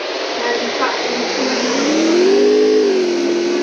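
Loud, close engine drone climbing in pitch as it revs up, then settling into a sustained buzzing tone.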